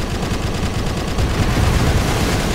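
Gunfire in the video game Splatter Blood Red Edition comes as rapid, continuous bursts of shots, loud and dense, layered over a noisy game soundscape.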